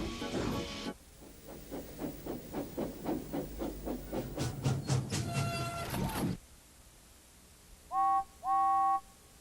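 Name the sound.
train moving, cartoon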